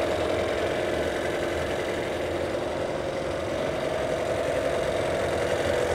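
A Yamaha 6C outboard motor that is overheating runs steadily at close range, a continuous mid-pitched engine drone with a faint knocking texture and no voices.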